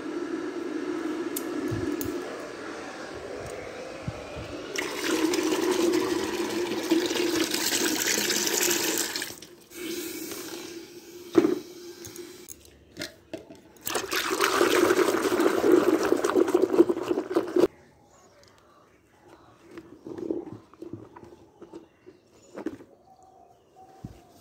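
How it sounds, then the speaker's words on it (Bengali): Warm water pours and splashes onto a bedsheet set to soak with detergent. Two bursts of running water are broken by short gaps, followed by quieter wet handling at the end. "বিছানা চাদরটা অল্প গরম জল দিয়ে ভিজিয়ে দিব সার্ফ দিয়ে"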